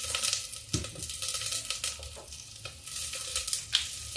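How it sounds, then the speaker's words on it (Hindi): Potatoes fry in a pan with a close, crackling sizzle, punctuated by several sharp spoon scrapes and knocks against the pan at an uneven rhythm. "जब तक गुलाबी नहीं हो जाता तब तक मैं इसको फ्राई करती रहूंगी"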